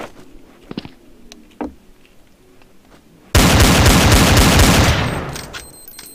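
Gunfire in Counter-Strike: Source: after a few quiet clicks and thuds, a loud, dense burst of rapid shots erupts, then thins and fades near the end.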